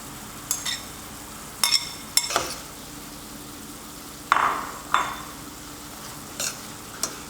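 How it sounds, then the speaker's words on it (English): Sauce and cooked vegetables for pork lo mein sizzle softly in a pan while a utensil clinks and scrapes in several separate bursts of stirring. "We have to stir this frequently because we don't want our sauce to burn up."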